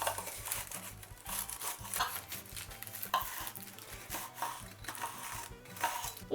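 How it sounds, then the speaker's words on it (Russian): A knife saws and scrapes around the edges of a hot, freshly baked cake layer, giving a close, continuous rasping texture with repeated short strokes and no talk. "И пока еще корж очень горячий, срезаем вот так вот края"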